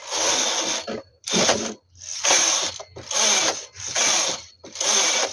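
Knitting machine carriage knitting rows of an adult V-neck sweater at tension 8, five loud mechanical sweeps back and forth with brief pauses between each pass, close and alone.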